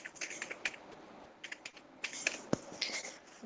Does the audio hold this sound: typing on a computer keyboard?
yes